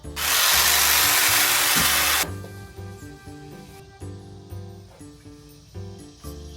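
A power hedge trimmer cuts through backyard bushes in one loud, steady burst of about two seconds, then cuts off, leaving quieter music-like tones behind.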